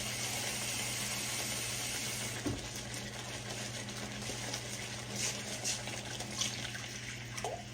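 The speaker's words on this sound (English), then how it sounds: "Let me give it some water. So this will be the 4th glass of water that's going in it." Water poured from a glass into a roast beef pan for gravy, a steady running splash lasting throughout, close and fairly loud with a few brief clinks.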